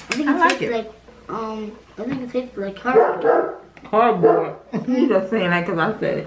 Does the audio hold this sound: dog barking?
yes